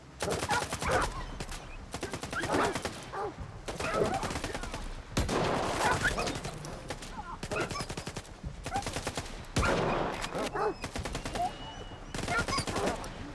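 Rapid bursts of automatic gunfire in the first-person shooter S.T.A.L.K.E.R. 2: Heart of Chornobyl, loud and close, repeating in clustered volleys with brief gaps throughout, with a voice speaking briefly over the shooting.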